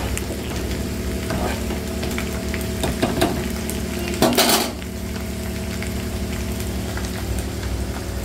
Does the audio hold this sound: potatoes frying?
yes